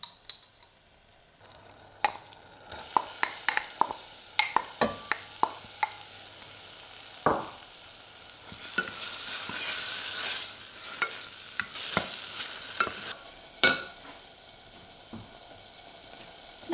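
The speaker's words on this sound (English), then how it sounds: "Add in 3 cloves of minced garlic, 1 tablespoon of minced ginger and those black beans and fry for 1 minute" Minced garlic, ginger and black beans fry in sesame oil for a minute while a utensil stirs them, making a soft continuous sizzle broken by sharp clicks and scrapes against the pan, close and with no talking.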